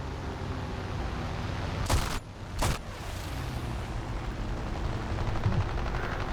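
Machine gun fire from a D520 fighter plane in a combat flight video game: two short sharp bursts close together over a constant loud engine drone.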